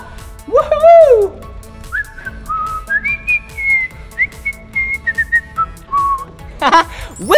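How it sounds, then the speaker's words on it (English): A person whistles a series of sustained, wavering notes at close range at an aquarium, with a brief rising whistle near the start and a busy sound at the end. "Did you hear that? My whistle?"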